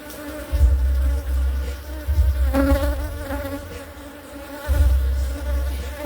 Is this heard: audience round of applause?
no